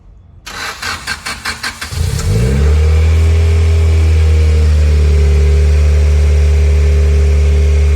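A Honda Integra under repair cranks over with a rapid chugging starter, catches, and roars into a loud rev before settling into a steady, heavy idle that drones on alone, close by.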